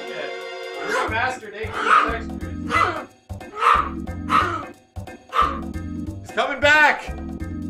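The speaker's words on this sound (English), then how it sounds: "Well, there goes the dog." A dog in the FF7 New Threat Mod gives repeated yips and barks in a rhythmic series, close and prominent, with a steady low game tone underneath.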